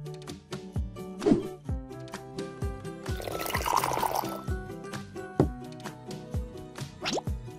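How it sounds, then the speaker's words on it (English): Hot water is poured in a brief gurgling stream onto coffee amid repeated drips and plops of liquid falling into a filter. "Pour hot water in and wait."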